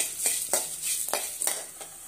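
Ingredients stir-fry in a pan for an Andhra-style gongura relish, with a steady sizzle and evenly spaced spatula scrapes roughly every quarter second, close and fairly quiet.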